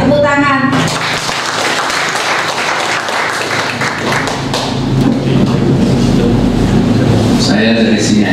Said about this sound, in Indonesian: Dan mari kita sambut bersama Bapak Hadi Irianto untuk membersamai Bapak Ibu semuanya. Tepuk tangan.